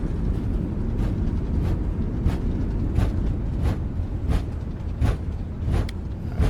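An Airbus A380 at full reverse thrust in Microsoft Flight Simulator, a steady loud broadband engine roar with faint periodic rumbles from the rolling landing, continuous throughout.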